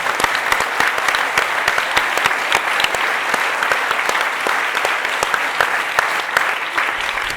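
Audience applause at a closing ceremony, a loud sustained burst of many hands clapping close by in a dense, even rhythm, continuing steadily without letup and with no voices over it.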